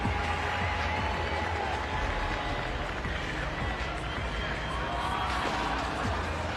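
A packed arena crowd roars and cheers steadily for weightlifter Turi Helgadottir during her women's clean attempt at the 2019 CrossFit Games, a dense, continuous wash of noise with no breaks.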